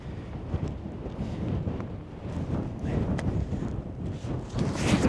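Strong wind on a mountain summit above 2000 feet roars and buffets the microphone continuously, gusting in low rumbling waves with no voices.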